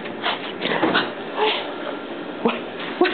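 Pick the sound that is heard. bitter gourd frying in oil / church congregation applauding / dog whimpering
dog whimpering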